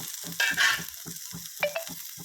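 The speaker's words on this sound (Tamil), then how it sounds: "இப்போ அதே கடாயில் வந்து கொஞ்சம் ஆயில் விட்டுக்கலாம். கொஞ்சமாக இப்போ வந்து அது கூடவே வந்து கொஞ்சம் சின்ன வெங்காயம் போட்டுக்கலாம்." Small onions frying in a little oil in a kadai, a soft sizzle with a few short scraping stirs and faint clatter, heard alone and quiet.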